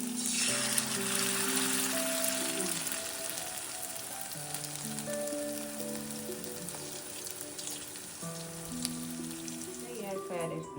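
Cabbage pakora frying in hot oil in a pan, a steady broad sizzle running throughout with music playing over it.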